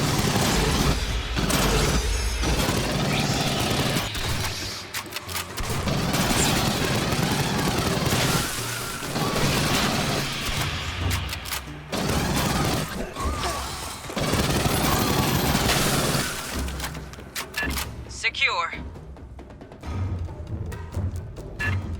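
A grenade launcher in the Aliens: Fireteam Elite shooter game, firing repeated loud thumping blasts with crashing explosions, mechanical reload clatter and dense combat noise, easing to quieter clicks near the end.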